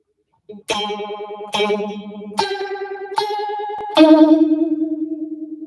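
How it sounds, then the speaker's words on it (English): Five guitar notes ring out in sequence through a phaser pedal set to maximum, each pulsing with a deep, fast phaser wobble; loud, close and unaccompanied by speech. "Here's what it sounds like maxed."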